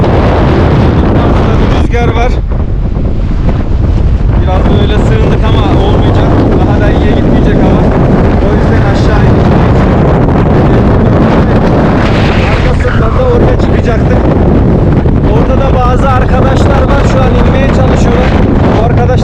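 Strong storm wind buffeting a microphone high on Kösedağı mountain in Ağrı Eleşkirt, a loud, relentless rumbling roar with gusty surges throughout while a voice talks faintly beneath.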